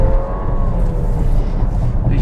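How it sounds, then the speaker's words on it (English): A VW Tiguan SEL accelerates in sport mode, its engine a steady, moderately loud hum with a slowly climbing tone beneath road and wind noise from inside the cabin. "You can probably hear the engine there"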